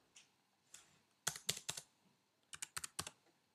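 Computer keyboard typing in short bursts, a few quick clicks, then a pause and a second run of crisp keystrokes, close and quiet.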